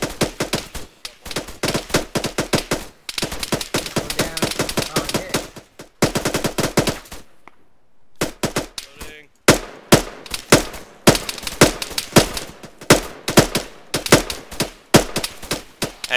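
Direct gunfire in a military-style operation: repeated bursts of automatic fire and sharp single shots, loud and close, broken by brief pauses.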